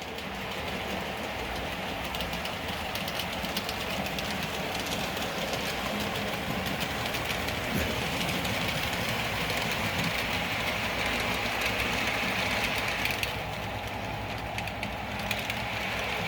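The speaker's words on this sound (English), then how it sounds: "the train has to go make a reverse so we can back it into the station" A passenger train reversing into a station rumbles steadily along with engine drone and faint rail clatter, a continuous mechanical roar that eases slightly near the end.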